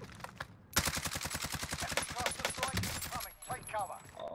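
Rapid continuous FFAR automatic fire in Warzone rattles out in a long fast burst, followed by a few scattered shots, with players talking around it.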